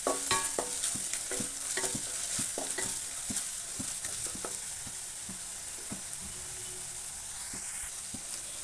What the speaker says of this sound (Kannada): ಇದು ಸ್ವಲ್ಪ ಚೆನ್ನಾಗಿ ಸಣ್ಣ ಉರಿಲೇ ಫ್ರೈ ಮಾಡಬೇಕು